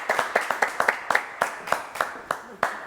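A small studio audience clapping for a singer on a live show, about a dozen distinct, fairly close handclaps in an uneven rhythm rather than full applause.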